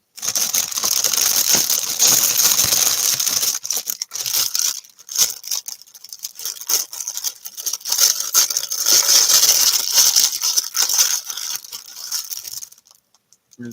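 Packaging crinkles and rustles almost nonstop while items are unpacked, close and fairly loud, with short pauses and scattered crackles before it trails off at the end.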